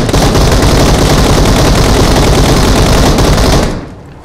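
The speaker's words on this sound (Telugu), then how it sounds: "ఏ ఎంతమంది ఫైర్ చేసిరు" Continuous loud automatic weapon fire in the BGMI battle royale game, a dense unbroken burst of rapid shots lasting several seconds before cutting off abruptly, with no talk over it.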